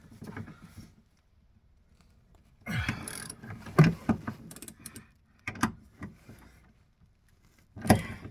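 Torque wrench and tools work the rear shock bolts on a MK4 Golf rear axle, giving a few separate bursts of metallic clicks, ratcheting and clanks with quiet gaps between them, close by in a garage.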